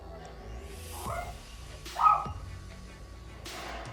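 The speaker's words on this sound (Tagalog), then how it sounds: "nag-iingay yung mga aso namin" Pet dogs barking somewhere in a house, a few short yips and woofs spread across the clip, moderately distant, with a louder bark burst near the middle over a quiet room background.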